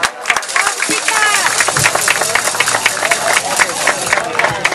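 Applause at the inauguration of offices, many hands clapping in a lively, dense patter with crowd noise and voices throughout, loud and close.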